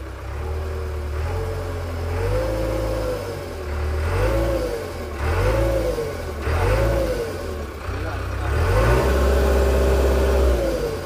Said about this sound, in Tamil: வாங்க நம்ம எக்ஸாஸ்ட் நோட் கேட்போம்